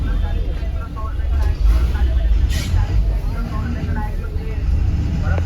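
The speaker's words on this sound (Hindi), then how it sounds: "बहुत ही भयंकर गाड़ियों का ट्रैफिक और तंग जगह" Dense heavy-vehicle traffic in a crowded Delhi wholesale market, with buses and trucks rumbling close by, a sharp air-brake hiss partway through, and voices talking over the continuous engine noise.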